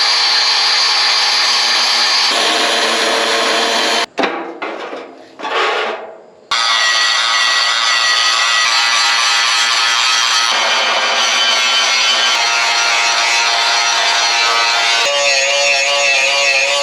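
A MIG welder runs on a thick steel trailer deck during a tri-axle equipment trailer rebuild, a loud continuous crackling hiss that cuts out briefly, then resumes and carries on steadily.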